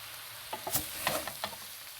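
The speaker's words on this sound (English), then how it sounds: "we're mixing now." Potatoes and eggplant frying in a pan while being stirred, a soft sizzle broken by several quick scraping and clinking spoon strokes, close and fairly quiet.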